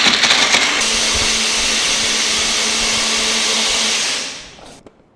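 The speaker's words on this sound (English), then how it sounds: "First, I'm going to grind this into a paste." A kitchen blender grinding jackfruit seeds with milk into a paste, a loud steady whirring drone that runs several seconds and then winds down, alone without talk.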